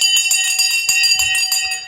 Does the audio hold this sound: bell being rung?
yes